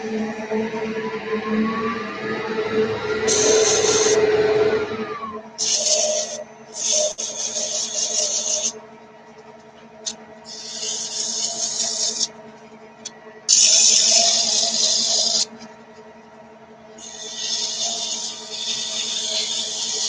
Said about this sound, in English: A little fast on the speed for the sanding there.